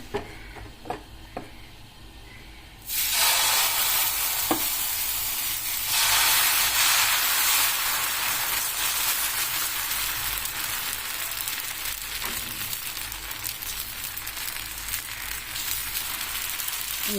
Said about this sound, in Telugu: ప్యాన్ బాగా వేడైపోయింది ఇప్పుడు దోశ ప్రిపేర్ చేసుకుందాం